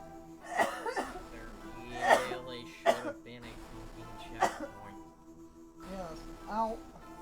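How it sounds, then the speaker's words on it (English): Someone coughs repeatedly in short harsh bursts, several separate coughing fits spread across a few seconds, close and loud, with some throat-clearing sounds between them. "Coughing."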